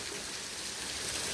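Heavy rain pouring during a supercell storm with baseball-sized hail and high winds, a dense continuous hiss of downpour close by, steady and loud with no break.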